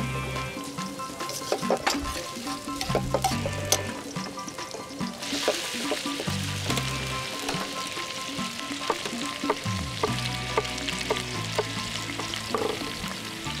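Onions and garlic sizzle steadily in a hot pan while cooking serkele, with frequent clinks and scrapes from stirring cutting through the constant frying hiss.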